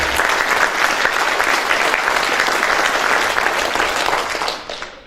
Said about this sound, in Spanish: Un aplauso, por favor, para este evento internacional.